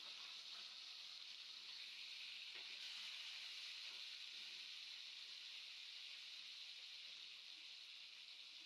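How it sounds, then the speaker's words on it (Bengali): Sarpunti fish frying in oil in a pan, a steady, even hiss of sizzling that holds unbroken throughout, fairly faint and with no voices. "মাছটা একটু ভাজা হয়ে গেছে। এবার আমি মাছটাকে উল্টে দেবো আর একটু ভাজার জন্য।"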